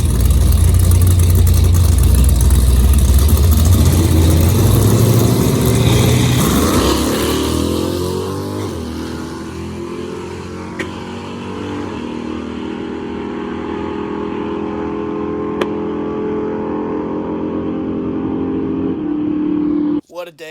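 A nitrous-fed drag car with a stock-bottom-end 306 engine launches at 4,000 rpm off the rev limiter, a loud roaring engine that climbs through the gears and then fades into a steady drone as it runs down the track.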